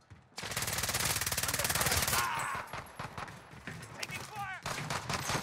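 Rapid automatic gunfire from a Call of Duty Warzone match, a loud sustained burst of machine-gun fire for about two seconds, then scattered shots and clatter mixed with game effects and some talk.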